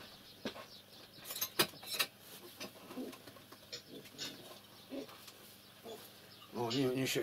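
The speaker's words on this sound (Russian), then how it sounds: "У меня и голубь в избе." A pigeon coos indoors inside a wooden village hut, with a few soft coos mixed among rustling, and people talking nearby.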